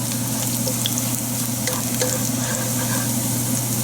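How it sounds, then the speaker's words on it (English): Ginger frying briefly in hot oil, a steady close crackling sizzle with fine popping, continuous and loud throughout. "Fry it just for a second because the oil is hot"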